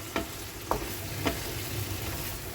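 Bitter gourd being stirred into a mustard-poppy gravy in a pan, three sharp scraping strokes of the spatula over a soft steady sizzle, close and fairly quiet, no talking.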